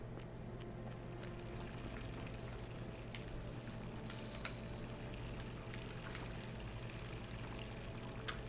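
Steady flowing water from an aqueduct or cistern in the video game The Forgotten City, a continuous pouring rush over a low droning hum, with no talk.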